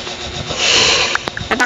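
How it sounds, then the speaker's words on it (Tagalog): A Minecraft creeper hisses as it gets ready to explode, a sustained breathy hiss swelling loud and close, then broken by a few short sharp game sounds near the end. "May creeper!"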